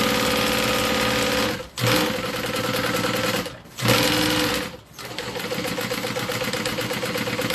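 A sewing machine quilting random twisting stitches: a loud, close, fast mechanical chatter running in bursts, stopping briefly twice before resuming steadily.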